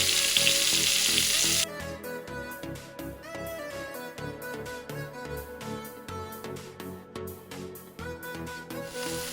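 A loud, close hiss of cauliflower, tomato and shrimp frying in a pan opens briefly before rhythmic background music takes over and the sizzle sinks beneath it.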